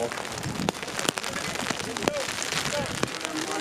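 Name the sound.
rain falling on an umbrella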